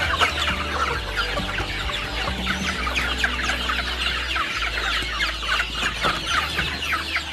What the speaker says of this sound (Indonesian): ini adalah ayam kita